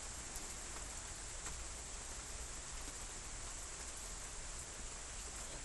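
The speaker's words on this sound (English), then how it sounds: "Rain is pushing the atmosphere down here." Rain falls steadily outside in a quiet, faint, even hiss with a few scattered drop ticks and no voices.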